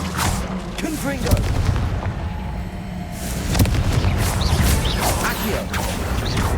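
The Confringo blasting spell in the Hogwarts Legacy video game, heard as dense booming blasts and crashing impacts over a continuous rumble of battle noise, loud and close throughout.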